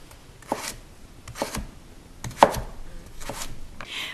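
A knife chops carrot and celery planks into sticks on a cutting board, with about five crisp, separate knocks at an uneven, unhurried pace, close and clear with no talking.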